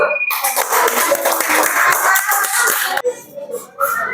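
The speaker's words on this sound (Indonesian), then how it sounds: "Oke, tepuk tangan dulu." Schoolchildren in a classroom clap their hands together in a dense, loud burst for several seconds, which then cuts off abruptly into quieter room rustling and shuffling.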